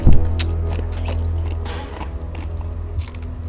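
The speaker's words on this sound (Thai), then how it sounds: "ผมเคี้ยวน้ำแข็งนะครับ" Someone chews ice close to the mic, with sharp crunches and cracks over a low steady hum.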